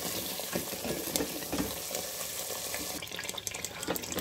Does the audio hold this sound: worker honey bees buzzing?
no